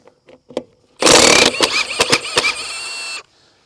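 A Milwaukee M18 FUEL 1/2-inch high-torque impact wrench working rusty lug nuts on a trailer: a few soft clicks, then a loud, close burst of rapid hammering rattle lasting about two seconds before stopping.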